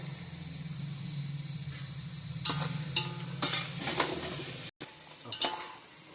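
Finely chopped tomatoes hit a hot pan with mint and vegetables for a chicken pulav, sizzling steadily under sharp spatula scrapes and clinks against the pan, with a brief gap before stirring resumes.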